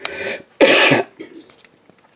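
A single sharp cough bursts out close by, followed by a softer throat-clearing rasp and a few faint mouth noises.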